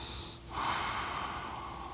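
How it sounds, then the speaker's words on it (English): Slow, loud breathing from a person holding yoga child's pose with legs together, a strong snort-like exhale and inhale near the microphone with a brief pause between, no talking. "Breathing."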